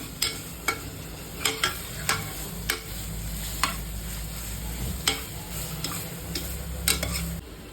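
A spoon stirs frying food in a home kitchen pan, a steady sizzle underneath with a series of sharp scrapes and taps against the pan at irregular intervals, close and moderately loud with no talking.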